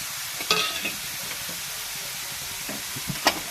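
Kakrol (spiny gourd) with chilli powder, green chilli, salt and turmeric frying in a pan, a steady sizzle broken by several spatula scrapes and clacks as it is stirred, heard close with no voices.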